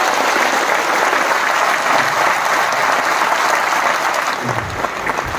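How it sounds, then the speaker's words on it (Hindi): Loud, sustained applause from an audience at a motivational speech event in Pune, dense steady clapping filling the room for several seconds before tapering slightly at the end. "इसलिए मैं चाहता हूं कि एक बार खुद के लिए जोरदार ताली होनी चाहिए।"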